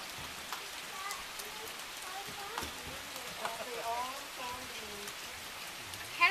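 Steady patter of rain falling on a deck during a storm in North Carolina, with scattered drips and a few faint voices in the background.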